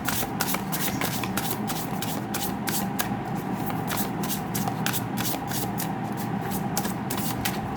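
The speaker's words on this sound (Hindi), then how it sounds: "सो यहाँ पे हम ओरेकल कार्ड को देखते हैं और एक डेक से" An oracle card deck shuffles continuously, the cards riffling in quick repeated bursts at a steady close level with no talking.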